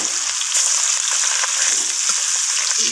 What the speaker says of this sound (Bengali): মাছগুলোকে আমি তেলের মধ্যে ছেড়ে দিচ্ছি একে একে